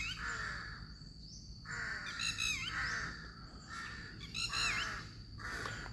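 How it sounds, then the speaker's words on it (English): Crows cawing repeatedly in an open historical park in Kamphaeng Phet, Thailand, with harsh calls arriving in two clear bursts over steady outdoor background noise, moderately near. "One of the crows."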